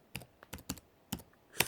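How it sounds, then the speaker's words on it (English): Several quick clicks of computer keys typing a command while updating a Moto G6 phone, in two loose bursts of separate close keystrokes with short pauses between, no talking. "down here just type on your keyboard fastboot"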